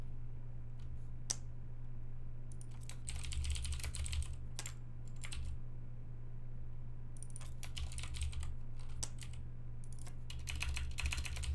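Address and card details typed on a computer keyboard: quick clusters of crisp key clicks in uneven bursts separated by short pauses, close and clear over a low steady hum, with no talking.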